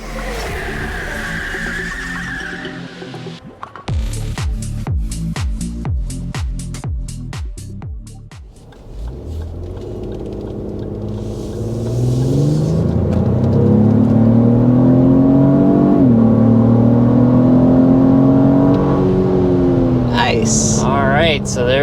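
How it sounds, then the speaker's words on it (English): A 2024 Lexus GX 550 Overtrail+ turbocharged SUV accelerates hard, its engine note rising steadily and climbing through the gears, loud and close inside the cabin, with a voice talking over it. "accelerating up to a little above 60 miles per hour with this new turbocharged powertrain"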